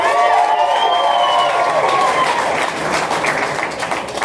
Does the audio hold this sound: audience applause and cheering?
yes